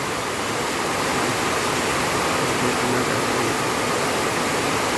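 Continuous heavy rush of the overflowing Paaig River, a loud broadband roar with no pauses, the swollen river surging nearby.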